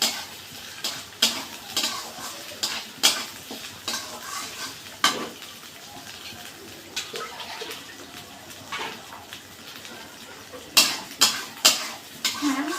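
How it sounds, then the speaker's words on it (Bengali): Fried potatoes stirred and sautéed in oil in a pan for a cabbage fritter curry, with a steady sizzle and repeated scraping clinks of the spoon against the pan, close and fairly loud. "এবার আমি দিয়ে দেবো ভেজে রাখা আলুগুলো, দিয়ে আর একটু কষিয়ে নেব।"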